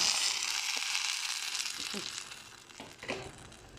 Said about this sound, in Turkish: Şöyle hemen suyunu dökeyim.